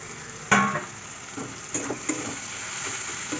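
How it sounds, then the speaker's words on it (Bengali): Chopped green chillies are stirred into frying tomato, potato and carrot. A sharp clank of a spatula on the pan opens the clip, then sizzling continues under scraping stirs and light knocks. "কাঁচা লঙ্কা দিয়ে এবার নাড়াচাড়া করে এবার মশলা দেবো"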